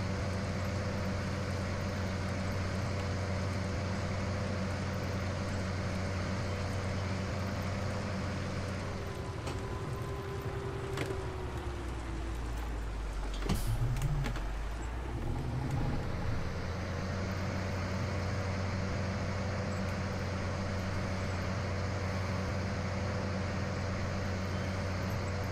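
A CVX tractor engine in Farming Simulator 19 runs at a steady low drone, and a deeper rumble and thump swells briefly midway before the idle settles again.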